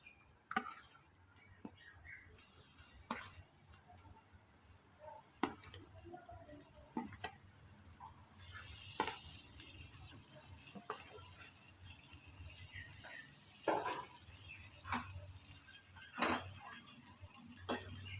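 Fried shrimp are stirred into a spice mix in a pan, giving a low sizzle under repeated sharp clinks and scrapes of a spatula against the pan at irregular intervals.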